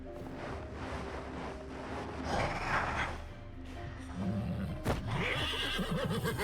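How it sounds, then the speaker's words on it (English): Horse neighing in the snowy battle of Wartales, a whinny that rises over a busy, continuous game soundscape of combat and movement, fairly close and moderately loud. "Horse is doing some damage."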